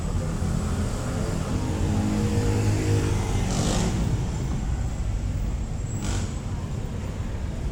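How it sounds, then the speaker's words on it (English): Cars and jeepneys drive by on J.P. Rizal Street in Makati, Manila, beside a petrol station. A steady, loud rumble of engines continues throughout, with a couple of brief passing swells. "cars going by. You can see jeepneys."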